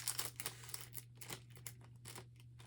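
Plastic packaging around a blanket is cut open and handled close by, giving a series of quick crinkling and snipping bursts in an irregular rhythm, with no talk.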